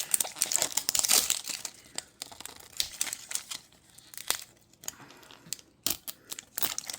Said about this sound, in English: Where's the tear strip? Right there, but I can never get them to tear.